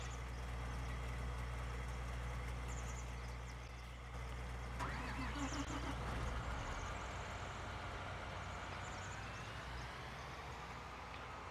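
A John Deere 7R tractor engine in the Farming Simulator 2019 video game hums at a low, steady, fairly quiet level, with a brief change in tone partway through.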